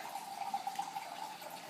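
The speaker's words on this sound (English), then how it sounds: "So now I'm going to take some organic or purified water" Purified water is poured steadily into a stir-fry of vegetables, beans and quinoa for kitchari, giving a continuous close, splashing trickle with a constant tone.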